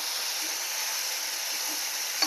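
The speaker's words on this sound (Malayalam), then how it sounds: "ഉരുളക്കിഴങ്ങ് 2 എണ്ണം കട്ട് ചെയ്ത് വെച്ചത് ഇളക്കി കൊടുക്കാം" Two cut potatoes fry in a pan, a steady close hiss of sizzling oil with a soft stirring scrape near the end.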